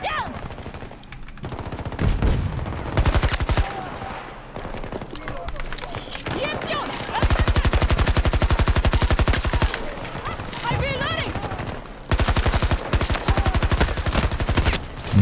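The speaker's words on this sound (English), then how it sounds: "This guy's shooting me through the bush." Automatic gunfire from a PP-29 submachine gun in a video game, rapid bursts rattling in long strings with brief pauses, loud and close, with a voice talking between volleys.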